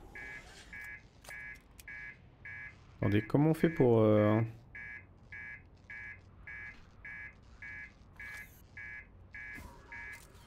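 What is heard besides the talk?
alarm sounding in spaceship in the video game Outer Wilds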